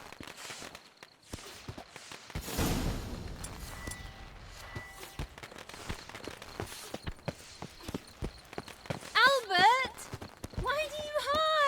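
Horse hooves clip-clop at a walk in The Witcher 3 video game, a steady run of light, close knocks under game dialogue, with voices speaking over them near the end.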